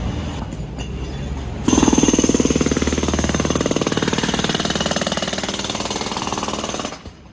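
A jackhammer pounds into the ground nearby, starting abruptly with a loud, rapid, continuous rattle that hammers on steadily for several seconds before cutting off.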